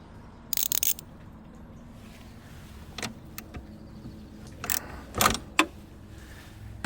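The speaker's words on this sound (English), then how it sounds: "To unscrew these bolts I use a socket number 10." A size 10 socket wrench loosens bolts on a Toyota Prius radiator, giving a quick ratcheting burst, then scattered metallic clicks and clinks at close range in an otherwise quiet space.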